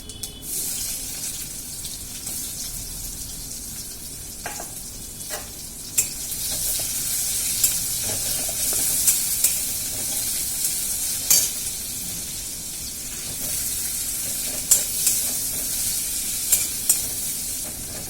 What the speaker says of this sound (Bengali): পেঁয়াজটা প্রথমে একটু ভেজে নিই।